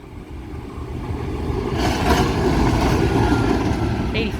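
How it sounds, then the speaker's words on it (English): A light engine locomotive moves along the railway line at Asquith, heard as a steady, loud low rumble that builds slightly and holds throughout. "We have some light engine movement."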